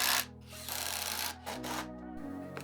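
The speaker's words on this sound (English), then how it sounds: "armed with a pack of 6x100mm screws, I set about screwing the 4 corners of the frame together." Screws 6x100mm being driven into a wooden frame corner, a steady grinding, rasping drive lasting a second or so, pausing, then resuming in bursts at close range with no talk.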